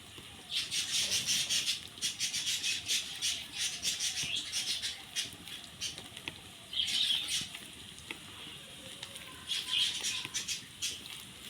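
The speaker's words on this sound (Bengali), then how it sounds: "আমি বেসন দিয়ে মাখাচ্ছি" Hands squishing and kneading raw banana mash with gram flour, soft wet patting and rubbing in uneven bursts, close up and fairly quiet, with brief pauses between rounds of mixing.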